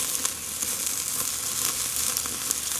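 Barbecue chicken brushed with sauce sizzles over direct heat on a grill, a dense, steady hiss with tiny crackling pops, close and unbroken for a few seconds.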